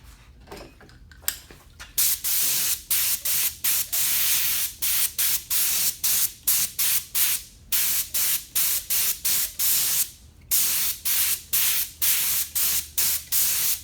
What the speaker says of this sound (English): up here with the spray stain, we're going to be able to build color.